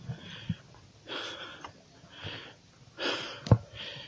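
Heavy, ragged breathing from someone hiking at night toward the hanging coffins of Sagada, with repeated close-up gasping inhales and exhales, a few sharp sniffs and a brief thump, with no talking.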